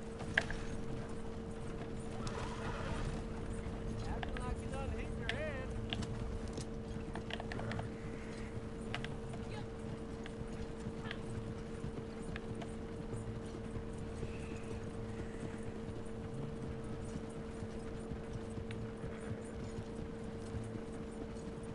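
Horses walk along toward a barn, a faint, steady clip-clop of hooves mixed with mechanical clicking and a constant low hum, with no talk over it.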